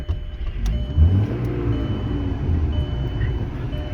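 A 2000 Volkswagen Jetta's engine runs and the car moves off, a low rumbling drone that swells briefly and then holds steady, with a few faint clicks.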